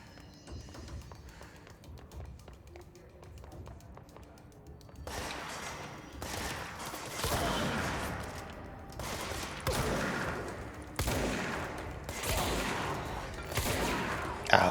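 Gunfire in the video game Control: after a quieter opening, loud, dense bursts of shots arrive in repeated volleys, separated by short pauses and running to the end.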